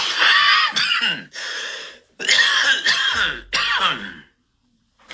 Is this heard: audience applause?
no